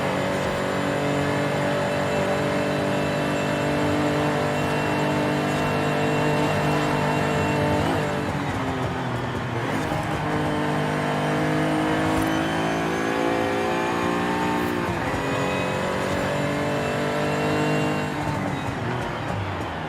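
A 1982 DeLorean DMC-12 accelerates hard to overtake, its engine droning loud and close and rising in pitch as it pulls through, with a sustained revving tone throughout.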